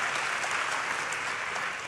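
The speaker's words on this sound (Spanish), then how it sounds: "Dale un aplauso al Rey bendito" Brief burst of congregation applause during a church sermon, dense steady clapping at moderate distance filling the whole moment.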